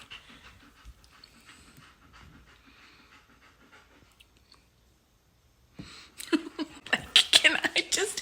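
A dog hovers near a table at mealtime, panting in quick rapid bursts close by after a quiet stretch, growing louder toward the end.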